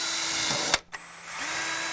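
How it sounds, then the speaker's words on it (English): A power drill pre-drills a nail hole through a joist hanger on a deck, its close, high whine running steadily, then cutting out briefly and spinning back up. "The reason I left these long is so that I could pre-drill right here and put a nail up here"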